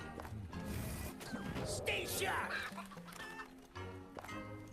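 Chickens cluck and squawk in the Warcraft Rumble video game, a busy burst of fowl calls in the middle of a lively mix of game sounds and music.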